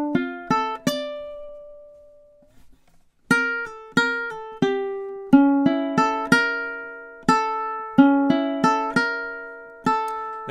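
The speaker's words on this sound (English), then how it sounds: "So when you put the 4 measures together of ukulele 2, it should sound something like this" Ukulele plays the second part of a flamenco rumba inspired duet, four measures of plucked melodic notes and chord shapes. After a brief pause the notes come in crisp, close, decaying attacks, with no talking.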